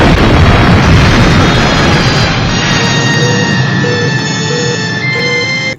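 Star Trek original-series nuclear warhead detonating after point-blank phaser fire: a loud, roaring blast that rumbles and decays over several seconds, giving way to steady high electronic tones and a repeating beeping alert before cutting off abruptly.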